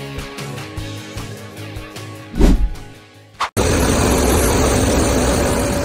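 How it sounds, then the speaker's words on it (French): A tractor with a front flail mulcher shreds standing sorghum in the field: after a short musical lead-in, a loud, steady broadband roar of engine and cutting rotor sets in abruptly and holds. "Le tracteur avance à rythme soutenu, transformant une culture sur pied en une fine matière première"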